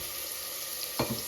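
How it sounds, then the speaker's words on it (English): Chopped white onion slides into a hot saucepan where potato wedges are cooking, and a sharp burst of sizzling jumps out of a steady background of frying. There is no talking. "So we have prepared some onion. It is going into that saucepan."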